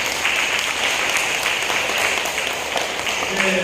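An audience at a health lecture for specialist instructors breaks into steady, dense applause, a continuous crackle of many hands, with voices faintly mixed in.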